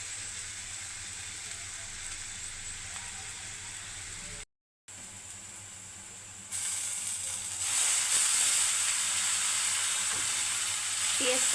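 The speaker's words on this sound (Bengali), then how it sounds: "পেঁয়াজটা ভালো করে ভেজে নেব" Onions sizzle steadily in a shallow layer of oil for noodles, a constant bright hiss that briefly cuts out and then grows louder and fuller toward the end.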